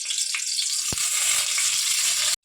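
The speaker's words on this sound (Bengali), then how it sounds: "কড়াইতে তেল দিয়ে দিয়েছি, আর দিয়েছি সর্ষের তেল, আর পটলগুলো ভেজে নেব" Pointed gourd (potol) frying in mustard oil in a wok gives a loud, steady sizzle with one sharp clink partway through before cutting off abruptly near the end.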